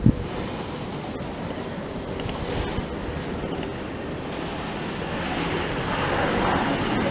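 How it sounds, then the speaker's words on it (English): Airbus A320 airliner landing on runway 19R at Suvarnabhumi airport, a steady broadband roar of engine and air noise heard from a distance that builds slightly toward the end, with wind buffeting the microphone. "This one that's landing now. A320."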